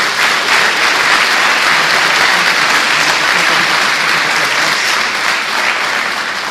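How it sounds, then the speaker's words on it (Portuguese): Congregation at a church service bursts into sustained, dense applause, loud and continuous from start to finish with no voices rising above it. "Dê uma salva de palmas ao Senhor."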